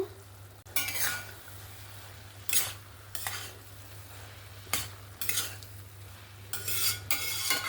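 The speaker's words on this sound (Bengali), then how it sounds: "আবার একটু নাড়াচাড়া করে নেব" Mung dal and ash gourd curry with fish head stirred in a pan, several separate bursts of spoon scraping against the pan over a quiet low hum, with a faint sizzle between strokes.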